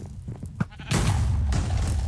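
A sheep bleats in the SheepWars video game, with a few short bleats up close followed by a louder, sustained rumbling burst.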